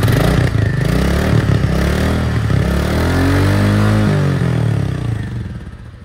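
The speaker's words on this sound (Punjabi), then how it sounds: "ਅਤੇ ਹੁਣ ਆਪਾਂ ਤੁਹਾਨੂੰ ਨਾ ਬਾਈਕ ਦੀ ਆਵਾਜ਼ ਵੀ ਸੁਣਾ ਦਿੰਦੇ ਹਾਂ" A 2024 Royal Enfield Classic 350 Stealth Black motorcycle idles close by with a loud, steady single-cylinder thump and some mechanical clatter, tapering off near the end.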